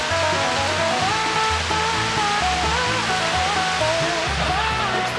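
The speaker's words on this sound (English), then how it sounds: "A waterfall back here." A steady rush of falling water from a waterfall in Skagway, Alaska fills the scene, a broad continuous roar with no pauses, fairly close and loud.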